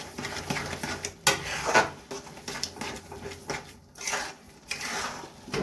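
Carrot halwa stirred in a pot with milk, the spoon scraping and clinking against the metal in irregular bursts, up close with a steady low background hum.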